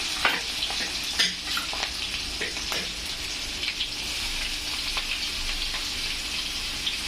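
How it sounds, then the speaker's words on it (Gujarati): Garlic, onion and ginger sizzle in hot oil, a close crackling fry with irregular pops and utensil stirring clicks over a continuous hiss, no talk. "ત્રણેયને આપણે ફ્રાય કરી લઈશું તેલમાં"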